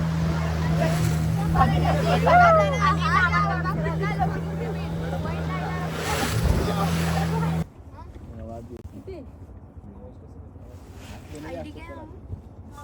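A passenger boat on a dolphin-watching ride at sea near Karde beach drones with a steady engine hum, wind and water noise, then the sound drops to a quieter rushing; voices are heard at times.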